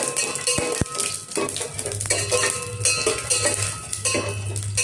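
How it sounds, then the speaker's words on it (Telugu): Whole garam masala spices for a vegetable biryani are stirred in a pan over a low flame, producing continuous close clattering and scraping of utensil on metal with a faint low hum underneath and no voices. "కలిపిన తర్వాత అందులో ఈ గరం మసాలా సామాన్లన్నీ వేసేస్తున్నాం అన్నమాట. వేసి కొంచెం వేయించాలి."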